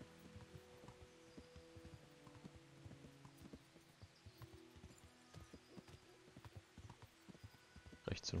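Horse hooves clip-clopping at a steady riding pace in the medieval game Kingdom Come, a soft repeating rhythm under quiet music and ambience, with a sharper burst at the very end.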